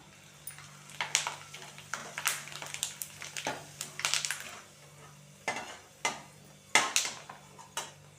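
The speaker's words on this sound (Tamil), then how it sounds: "எண்ணெய் சூடாயிருச்சு தீயை மிதமான தீயில் மாற்றிட்டு இந்த மாதிரி இந்த மாதிரி கொஞ்சமாக எடுத்து உள்ளே சேர்த்துக்கலாம்" Dried cluster beans dropped into hot oil over a medium flame, giving a series of short, crackling bursts and scrapes of a utensil in a pan, fairly close and moderately loud, with quiet stretches between.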